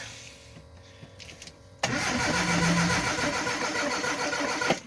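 An engine fitted with an aftermarket starter button and a manual choke catches suddenly after some faint clicks, then settles into a steady, close running idle.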